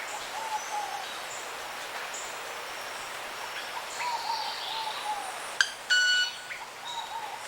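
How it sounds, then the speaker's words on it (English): Small bird's wings beating together to produce a tone, heard as a faint hum with light chirps in a quiet outdoor setting, ending in a brief louder buzzing burst near the end. "this sound that it makes just by beating its wings together."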